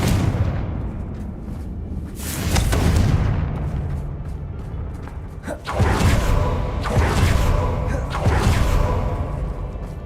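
Confringo fire spell explosions in Hogwarts Legacy, several loud booming bursts with whooshing, rumbling tails, a big one near the start and a cluster later on, with game noise in between.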